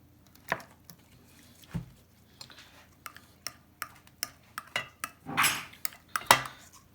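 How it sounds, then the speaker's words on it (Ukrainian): A spoon clinks and scrapes against a bowl as olive oil is stirred into mustard for an avocado salad, giving a run of irregular close taps and brief scraping bursts with no talking. "Вимішуємо нашу олійку."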